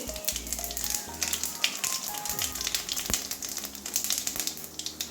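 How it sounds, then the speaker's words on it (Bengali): Dried red chilli and whole cumin seeds crackle and sizzle in hot oil during tempering for a chana dal with carrot and pointed gourd, a steady close fry with scattered pops and no talk. "ফোড়নে একটা শুকনো লঙ্কা দিয়ে দিচ্ছি, কিছু গোটা জিরে দিয়ে দিচ্ছি"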